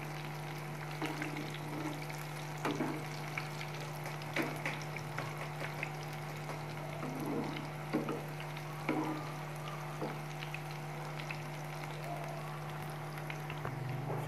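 Bread pakoras frying in hot oil, a soft continuous sizzle with scattered small pops and bubbling over a steady low hum, no talking.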